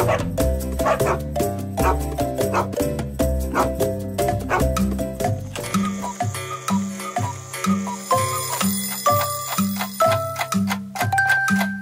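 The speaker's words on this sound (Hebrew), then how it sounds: "נובח לי הוב הוב הוב" A dog barks in short repeated yaps over the bouncy music of a children's song, with steady rhythmic accompaniment throughout.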